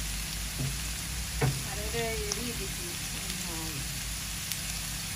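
Broccoli fries in a pan, giving a steady, fairly quiet sizzle. A voice talks over the frying, and a few soft clinks and scrapes come through now and then.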